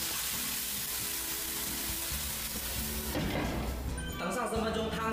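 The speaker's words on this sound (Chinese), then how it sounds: "倒入开水" Boiling water poured into a hot pan of fried eggs and shredded ginger, with steady sizzling that shifts into a rushing, bubbling surge midway, close and continuous without talk.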